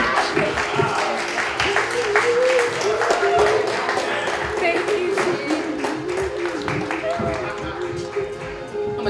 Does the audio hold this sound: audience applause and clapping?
yes